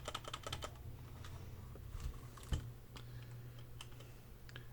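Rapid clicky keystrokes on a white Redragon Kumara mechanical keyboard with Outemu red switches, close and crisp, with uneven bursts and one firmer thump near the middle.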